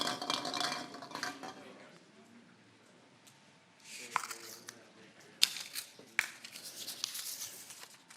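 Lots rattle and clink inside a cup as it is shaken for a CEV Volleyball Champions League draw, loose bursts of clattering that start and stop, with quiet pauses between and a few sharper knocks toward the end.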